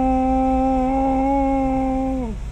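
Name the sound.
voice imitating humming drone from rear axle of Toyota Unser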